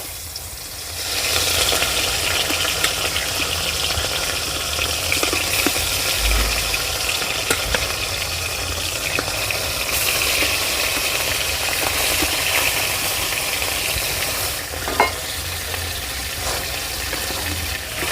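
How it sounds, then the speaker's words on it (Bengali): Fish frying in hot mustard oil in a wok, a steady broadband sizzle running loud and close throughout, with occasional small pops and clatters. "এবারে মাছগুলো ভেজে নেব দিয়ে দিচ্ছি কড়াইতে সর্ষের তেল"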